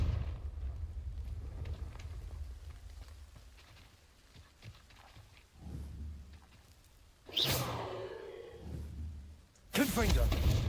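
The Confringo explosive spell is cast in Hogwarts Legacy: two bright, crackling blasts near the end, each with a brief fizzing tail, after a quiet stretch of faint game ambience and voices.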